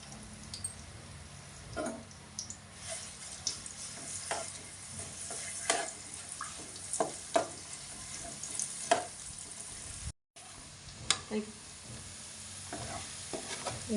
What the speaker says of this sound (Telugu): ఆయిల్ వేడెక్కిన తర్వాత చిన్నుల్లిపాయలు పేస్ట్ వేస్తానండి